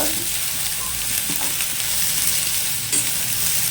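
Pieces of ridge gourd fry in hot oil, a steady close sizzle running throughout with a few light clatters, no talking.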